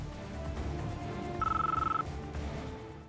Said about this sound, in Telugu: స్వర్ణ ఫోన్ చేస్తుంది తాతయ్య గారు.